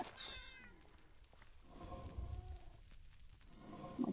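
Cats meowing softly, a few short high mews near the start and end over faint patter like rain in the background, quiet and close.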